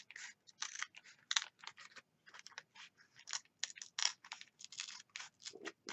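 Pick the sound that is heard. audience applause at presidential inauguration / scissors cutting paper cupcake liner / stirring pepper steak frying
scissors cutting paper cupcake liner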